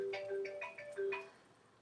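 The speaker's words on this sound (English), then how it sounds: "sorry, that was just my alarm." A phone alarm rings with a repeating electronic melody of short bright tones, several quick notes in a looping pattern, fairly close and clear with no talking over it.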